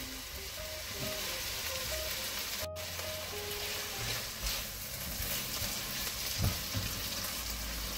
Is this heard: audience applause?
no